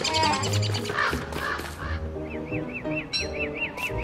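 A crow in the video game Don't Starve caws repeatedly over layered game music, followed by a series of short, rhythmic chirping calls near the end.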